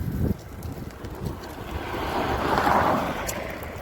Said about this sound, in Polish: Wieje i chyba będzie padało.